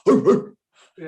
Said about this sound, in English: That's my dog right there